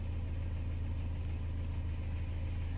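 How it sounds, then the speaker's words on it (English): A Mercedes 190E 2.0 converted to natural gas idles on gas, a steady low drone with an even pulsing rhythm, close and constant throughout with no voices. "the engine is running on natural gas"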